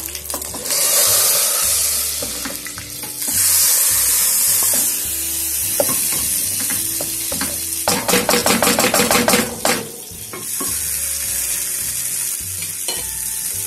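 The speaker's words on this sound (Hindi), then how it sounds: "तैयार है हम ये अपनी दाल में डालेंगे" Hot tempering poured into a pot of chana and masoor dal, giving loud bursts of sizzling and crackling that swell, fade and flare again amid clattering of a spoon and pan, with no voices.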